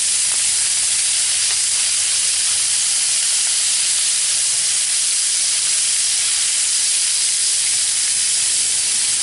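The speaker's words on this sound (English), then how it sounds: "And can you hear it sizzling?" Squirrel pieces frying in hot grease in a kitchen pan, giving a steady, loud, continuous sizzle and hiss that fills the whole stretch without pause.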